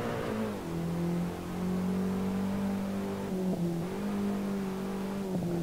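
A BMW M3 E30 in Assetto Corsa runs at full throttle on a mountain touge road, its engine droning in a loud, sustained rev whose pitch dips and climbs with gear changes.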